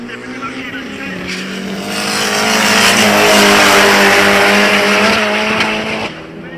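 A drag racing car with an MR2 engine roars loudly at a Sunday drag meet in Mkhuze, its engine note building and sustaining at full volume before cutting off near the end, with a commentator talking over it.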